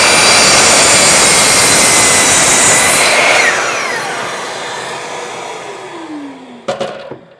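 Power saw cutting 8-foot 2x4 boards, a loud close whine that holds steady for a few seconds, then winds down with a falling pitch as the blade spins to a stop, followed by a short clatter.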